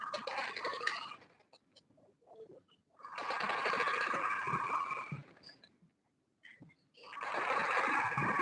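A domestic sewing machine stitches folded fabric for a ladies' dashiki with open sides, running in two sustained bursts with a short pause between them. The whirring sounds close and steady, and no one speaks.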